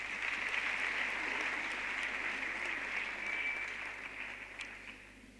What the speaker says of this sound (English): can we give a big round of applause to our parents?